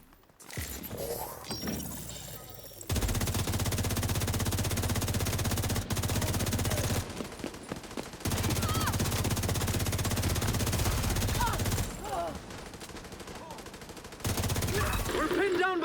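Rapid bursts of turret gunfire in a video game, loud and near, firing almost continuously with a few brief pauses and scattered clinks; faint voices may sit under the shooting.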